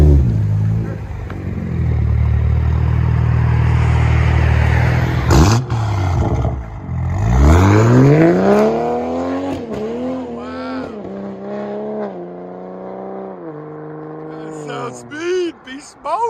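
A 2023 black Toyota Supra GR with a 3.0L inline-six and aftermarket exhaust revs loud and close. The engine note climbs and falls through several sweeping rises with crackles, and voices come through at times.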